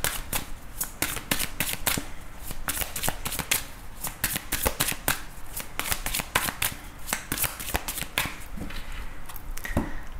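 A deck of tarot cards is shuffled up close. Crisp riffling and slapping bursts repeat in a quick, uneven rhythm for about ten seconds, with no voice over them.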